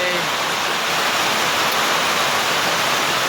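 Heavy rain pours down steadily at the entrance to the Pranburi Dam in Prachuap Khiri Khan, Thailand, a dense, unbroken hiss that stays loud and even from start to finish.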